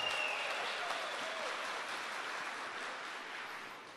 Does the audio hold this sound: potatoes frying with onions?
no